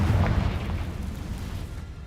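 A Confringo fire spell explodes in Hogwarts Legacy as a deep, booming blast that starts loud and rumbles away over about two seconds.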